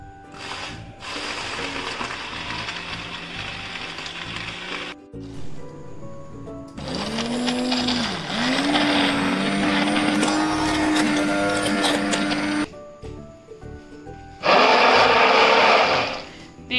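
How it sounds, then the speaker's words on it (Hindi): A loud electric blender whirs in bursts, pitch rising as the motor spins up and churns thick mango pulp with sugar, stopping and restarting several times. "आइए हम इसे ब्लेंडर से ब्लेंड कर लेते हैं।"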